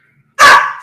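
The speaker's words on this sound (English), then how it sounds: "Sorry, that's my dog." A single loud, close dog bark, one sharp yelp-like burst that trails off quickly, heard alone indoors with a quiet room around it.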